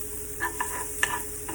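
Onions sautéing in a pan over medium-high heat for huevos rancheros: a steady faint sizzle with a few short stirring scrapes and clicks, close by, with no talking.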